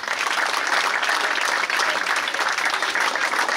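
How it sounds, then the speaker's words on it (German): Loud, sustained applause fills the space at the opening ceremony of the Roman town festival in Mautern, a dense steady clapping from a large crowd with no break. "gibt's ja mal einen kräftigen Applaus."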